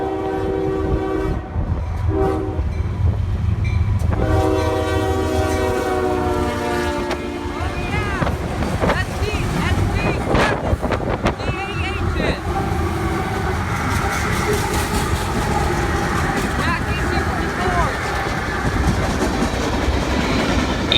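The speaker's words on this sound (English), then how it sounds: "Q416 came in with 9 locomotives, an ES40DC leader" CSX freight train Q416 led by an ES40DC locomotive, with nine locomotives in total, passes close by in January. A loud, sustained horn blows several times over heavy engine rumble and rolling wagon noise.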